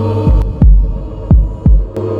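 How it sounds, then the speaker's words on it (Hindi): Racing heartbeat sound effect, loud deep thumps arriving in quick doubled pairs over a low sustained hum, close and isolated with no speech. "उनके दिल की धड़कनें तेज हो चुकी हैं।"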